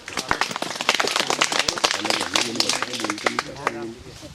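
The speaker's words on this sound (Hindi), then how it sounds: "देखो तालियां बजाओ सब लोग" A group of children claps in scattered, uneven bursts while voices chatter over the applause.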